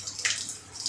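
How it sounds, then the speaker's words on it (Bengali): Dirty, iron-laden water runs out of a household water tank during cleaning, a faint, hissy trickle and splash with small surges, with no talk. "আমাদের এই যে দেখছো কত ময়লা জল বেরোচ্ছে, একবারে ময়লা ভর্তি।"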